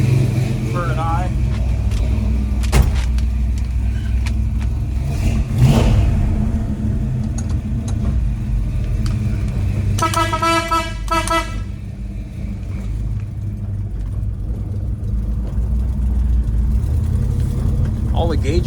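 A 1954 Chevrolet 210 sedan out on a cruise: a steady engine drone and road rumble run throughout, with a brief rev early on and a short horn-like toot partway through.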